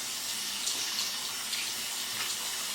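Tap water runs steadily as a makeup brush is rinsed and swirled beneath it, a close continuous splashing rush with slight shifts in tone.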